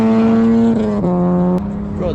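A BMW E46 engine holds a steady high-pitched rev at redline, then dips briefly and climbs again, loud and close at an outdoor car show with drifting, with a little crowd noise in the background.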